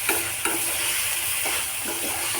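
Small fish frying in oil while being stirred: a constant hissing sizzle with repeated spatula scrapes and pops at a steady rhythm, close and moderately loud.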